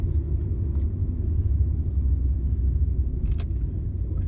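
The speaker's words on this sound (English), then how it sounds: "Go over some of these bumps." A used car on a test drive rolls over road bumps, giving a steady low rumble of tyres and suspension inside the cabin with a couple of faint knocks, no talking.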